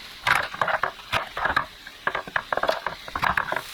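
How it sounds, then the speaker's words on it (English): A knife chopping napa cabbage on a cutting board, with quick, close, irregular crunchy cuts in a fast uneven rhythm and no talking. "I'm going to chop up the cabbage."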